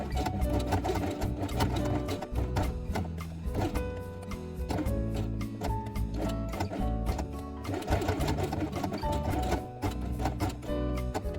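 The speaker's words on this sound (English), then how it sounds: "Sew them along the edge with brown thread." Sewing machine stitching felt along the edge with brown thread for a quiet book page: a steady, loud, fast mechanical clatter that runs without pause and stands alone, with no voices.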